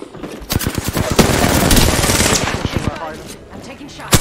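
Rapid automatic gunfire from an Apex Legends firefight, loud and close, with bursts of shots that run together and a final sharp shot near the end, no voices.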